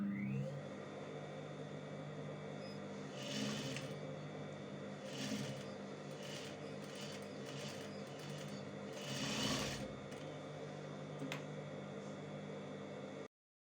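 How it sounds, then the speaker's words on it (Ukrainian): Sewing machine stitching the bottom of a cardigan placket while catching the zipper ends, a steady mechanical hum with a few brief louder bursts of faster stitching, then an abrupt stop. "Зшиваємо низ планки, одночасно пришиваючи кінці застібки."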